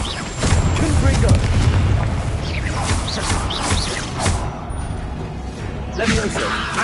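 A Confringo blast spell fired in Hogwarts Legacy gives heavy booming explosions over a few seconds, mixed with a shouting voice casting spells and game effects.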